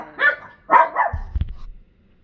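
Several dogs, excited by a child's toy pig, give a few sharp close barks in quick succession, followed by a low thump and then quiet.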